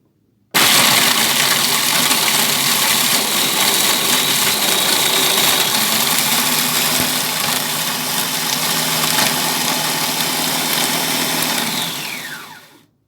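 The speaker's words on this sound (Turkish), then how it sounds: "Çalıştırıyorum makinemizi." A food processor grinds stale bread into crumbs. A loud, steady whirring motor starts abruptly, runs evenly for about twelve seconds and then cuts off, with no talk over it.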